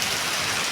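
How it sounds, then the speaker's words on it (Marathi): Heavy rain pours steadily on a flooded village road where the gutters have overflowed, a dense, loud, continuous hiss close by with no voices. "पाऊस बघा, धुमडा पडाला पाऊस."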